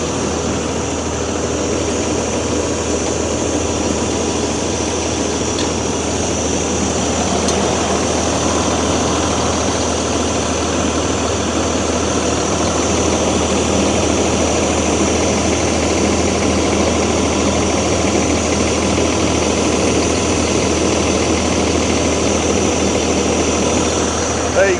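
A brand-new Claas Evion combine harvester idles with a heavy, continuous low engine drone and a constant mechanical hum, close by and unchanging throughout.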